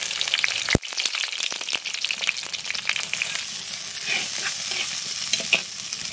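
Onions sizzle in hot mustard oil in a clay pan while a utensil stirs them, giving steady frying crackle and repeated scraping. The sound is close, and a sharp knock comes near the start.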